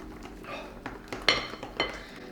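A whisk beats wet batter for high-protein chocolate cupcakes in a bowl, making a quick series of light clinks and taps against the side, close and fairly quiet.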